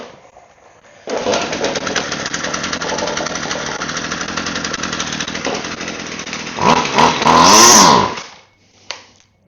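A small engine with a primer bulb fault starts after a quiet moment and runs with a loud, buzzing, chainsaw-like rattle for about seven seconds, then cuts off, with a brief voice near the end.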